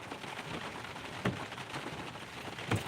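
Rain falls steadily outdoors around an old fort, a soft continuous hiss with two sharper drip or tap sounds, moderately close and with no voices.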